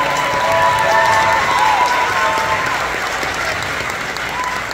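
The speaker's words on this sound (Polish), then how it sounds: "wielkie brawa dla wszystkich dziewczyn, które brały udział w konkursie" Sustained applause from an audience honoring the contestants at the Miss Polonia 2024 pageant, steady and fairly loud throughout with a faint crowd murmur beneath.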